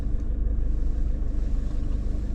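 A car drives past nearby with a steady, loud engine rumble and tyre roar held for a couple of seconds, and no one speaking.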